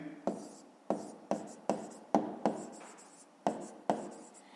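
Pen or pencil writing numbers during a fifth-grade maths exercise, a series of about nine sharp tapping strokes at a steady, slightly uneven pace, each followed by brief scratching, close and clear with no talking.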